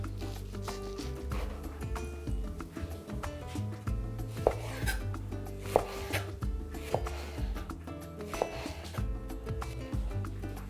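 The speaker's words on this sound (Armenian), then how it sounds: "կտրատում ենք ձողիկների" Chicken breast being cut into sticks with a knife on a cutting board, a run of irregular, close, crisp chops and taps with occasional sharper knocks, steady and moderately loud with no talking.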